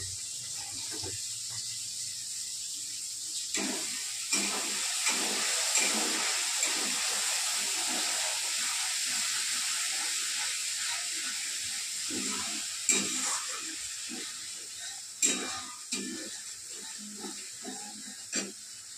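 Fish spice masala sizzles and fries steadily in a pan, a continuous close hiss with scattered pops and crackles and no talk.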